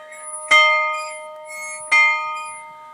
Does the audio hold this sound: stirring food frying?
no